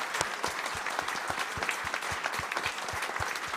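Sustained audience applause at the close of a concert by a string ensemble, steady dense clapping from a sizable crowd throughout, heard without any talk.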